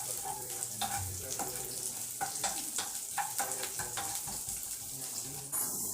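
Garlic, green chili and curry leaves sautéed in a pan, a steady crackling sizzle with irregular scraping stirs throughout, close and continuous, with faint background sounds.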